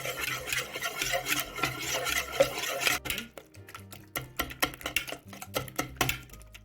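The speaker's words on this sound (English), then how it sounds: "Combine using a whisk or an electric beater" Softened unsalted butter whisked in a bowl, first a steady rubbing churn, then quicker separate scraping strokes, close and with no talking.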